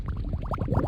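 Bubbles sound effect from a Scratch video game: a short run of quick burbling pops, rising and falling in rapid succession, close and clear.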